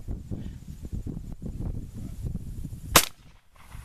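A single sharp gunshot cracks out during a youth turkey hunt, rising briefly above a quiet outdoor background of low rustling and wind.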